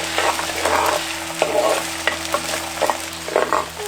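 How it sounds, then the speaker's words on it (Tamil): Fifty grams of chopped small onions with salt sauté in coconut oil, sizzling steadily and loudly up close as a spoon stirs and scrapes the pan in repeated strokes. "ஐம்பது கிராம் நறுக்கின சின்ன வெங்காயம் கூடவே கொஞ்சம் உப்பு சேர்த்து வதக்க ஆரம்பிச்சிருவோம்"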